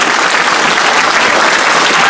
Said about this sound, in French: applaudissez-vous. Sincèrement, applaudissez-vous.